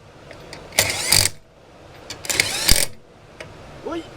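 Ratchet wrench tightening wheel bolts onto the rim of a Golf car: two loud, close bursts of rapid metallic clicking about a second and a half apart, with a faint click near the end and no talk.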